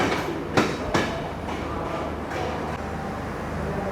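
Rolling steadily into Colombo Fort station, an Intercity Express train gives a close, continuous rumble punctuated by a few sharp clacks over rail joints.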